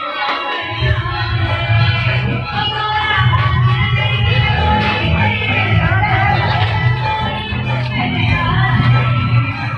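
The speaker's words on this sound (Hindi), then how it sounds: "अंदर कितना भीड़ है।" A dense, steady crowd of pilgrims fills the Turri Dham temple on a Sawan Monday, a loud continuous murmur of many voices with occasional louder calls throughout.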